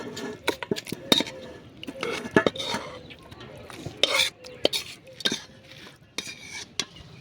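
Mutton goes into a cooking pot with clattering utensil knocks, scraping and wet squishing in irregular bursts, nearby, while voices briefly talk in the background.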